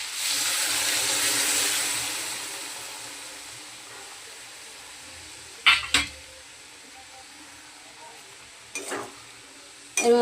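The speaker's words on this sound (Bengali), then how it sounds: "এবার আমি এই দুধটাকে দিয়ে দিচ্ছি।" Milk poured into shukto cooking in a pan, a soft steady hiss of liquid hitting the hot pan that fades over several seconds, followed by a few brief sharp clinks of utensils near the end.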